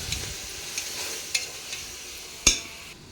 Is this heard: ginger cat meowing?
no